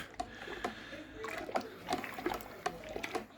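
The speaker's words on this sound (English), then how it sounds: "stir the yeast in. So I'm going to do that." Yeast being stirred into beer wort for a Mangrove Jack Juicy Session IPA inside a home-brew fermenter, with repeated soft liquid swishes and splashes in a loose rhythm, close and moderately quiet.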